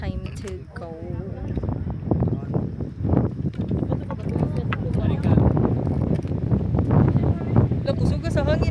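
Strong wind buffets the microphone on the Osmeña Peak summit, a loud, continuous roaring rumble, while people talk and call out over it.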